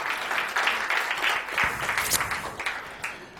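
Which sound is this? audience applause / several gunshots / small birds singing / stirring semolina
audience applause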